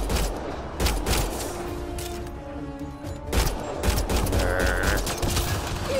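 Rapid bursts of gunfire in a Mass Effect Andromeda firefight on Xbox One, with sharp repeated shots and impacts over a dense, busy game soundscape and no talk.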